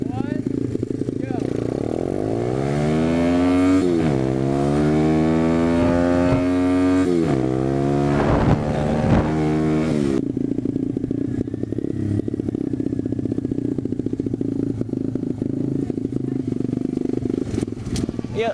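Dirt bike engines revving and accelerating hard in a short drag race, loud rising motor whine that climbs through gears, then drops to a rougher steady rumble, with people talking over it.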